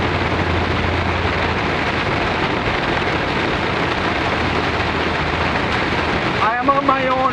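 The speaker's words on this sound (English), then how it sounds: "I am inside the storm right now as I speak." Steady heavy rain and wind roar around a truck during a storm, a dense continuous wash of noise with a faint voice emerging at the end.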